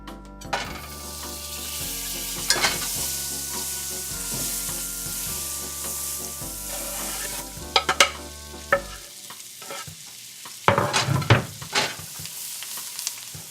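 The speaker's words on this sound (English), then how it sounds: "Now I got some butter and garlic in the pan" Garlic sizzles steadily in melted butter in a pan, a close, continuous crackling hiss broken by occasional scrapes and clinks of a utensil stirring, with the frying fading out near the end.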